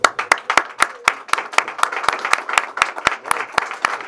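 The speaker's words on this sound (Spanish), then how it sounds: "con un fuerte aplauso" Rhythmic, unison clapping from an audience at a launch event, sharp regular claps about four per second, with lighter scattered applause between them.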